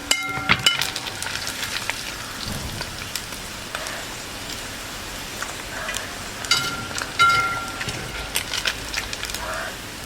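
Pieces of tuna frying in hot oil for a fish pickle, giving a steady crackling sizzle with scattered pops and small spatters, close and fairly loud, with no talking.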